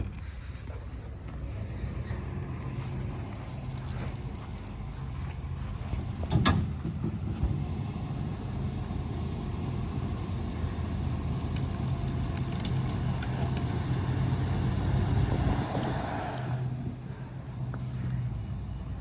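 An old two-wheel-drive Dodge Ram pickup's engine runs steadily with a low, rough rumble while its wheels spin without grip, growing a little louder midway and staying close throughout.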